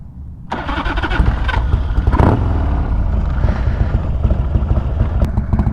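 A 1991 Harley-Davidson FXLR motorcycle engine starts after a brief crank, then settles into a loud, close, rumbling idle that continues steadily to the end.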